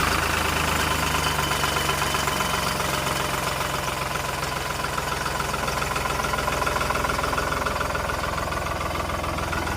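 A second-hand CASE JX 50 T tractor's engine runs steadily at idle, a close, even diesel chug with a knocking rhythm holding for the whole stretch and no talk over it.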